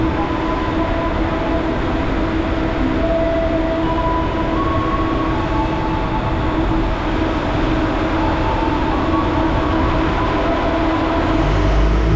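Train cabin rumble as an airport rail link near Minangkabau International Airport station in Padang, a steady loud low roar with faint rail hum throughout, no talk.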